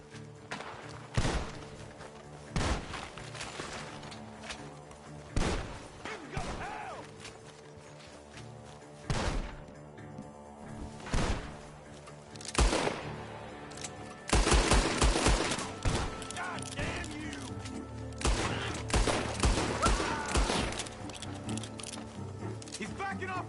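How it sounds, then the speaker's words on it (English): Bursts of gunfire in Red Dead Redemption 2, coming from a barn, single shots and rapid volleys scattered throughout, with shouting voices and game sounds around them. "The gunshots are coming from that barn!"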